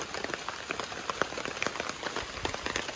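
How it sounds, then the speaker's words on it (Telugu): Rain patters steadily on a surface at a campsite, a dense scatter of close, crisp drop taps at moderate volume with no talking. "వర్షం పడుతుంది చాలా కలిసి యాక్చువల్లీ"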